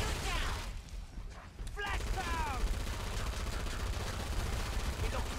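Rapid, dense gunfire from Killing Floor 2, loud and continuous with a brief lull near the start, mixed with voices in the game and chirping effects.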